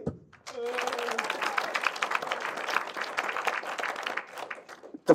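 An awards audience breaks into applause for a festival film nominee after a brief voice, a crowd of hands clapping evenly for several seconds with a whoop at the start before it tapers and someone speaks.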